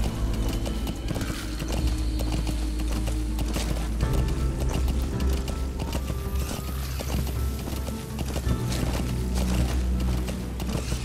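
Horse hooves clip-clop at a steady galloping rhythm in Metal Gear Solid V: The Phantom Pain, loud and continuous under a low rumbling backdrop of game sound.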